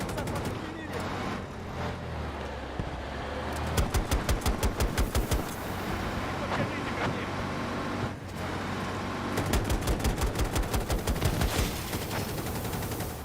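Video game gunfire rattles in two rapid automatic bursts around the middle and near the end, loud and evenly spaced over a dense backdrop of in-game engine noise and effects.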